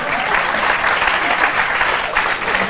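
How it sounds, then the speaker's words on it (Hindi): A small group applauds continuously for a few seconds, a dense, even patter of hand claps close by with no voices over it. "ताली बजाइए।"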